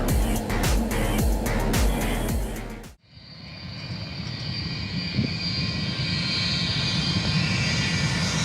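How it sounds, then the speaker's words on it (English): A Boeing Stratotanker during in-flight refueling: a steady, loud aircraft engine roar with broad rushing wind noise, coming in after a sharp cut from a rhythmic musical passage. "this is what in-flight refueling looks like from a Boeing Stratotanker"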